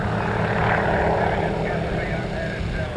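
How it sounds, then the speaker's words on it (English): A propeller airplane flies at a 1987 airshow, its steady engine drone loud and continuous throughout, with a faint crowd or announcer murmur underneath. "The particular airplane that Jim Franklin is flying is brand new"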